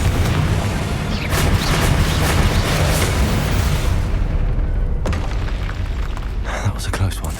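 Booming magical blasts from a Confringo fire spell in a Hogwarts video game, a dense, loud rumbling roar of explosions with crackling bursts, layered under a shouting voice and game noise.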